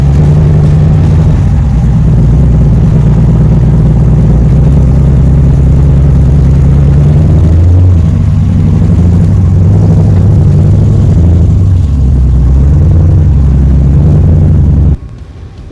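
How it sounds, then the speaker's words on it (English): A red Jeep with a V8 Hemi engine on 42-inch wheels climbs a mountain trail off-road, its deep steady engine drone rumbling loud and close throughout before cutting off abruptly at the end. "this red Jeep called Bad Habit. This guy is loaded with a V8 Hemi engine and it's fitted with 42-inch wheels."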